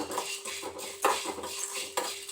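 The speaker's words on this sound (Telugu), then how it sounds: "ఇప్పుడు చిన్నగా దోరగా వేయించుకుందామండి" Chutney ingredients fry in a pan while a metal spoon stirs, giving a low background sizzle broken by a few sharp utensil scrapes and clinks against the pan, with no voices.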